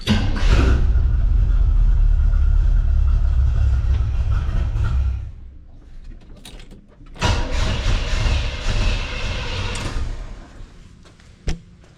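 A Camaro fitted with new mufflers runs with a loud, deep rumble, cuts out, then fires up again and idles on before fading away. The sound is close and heavy.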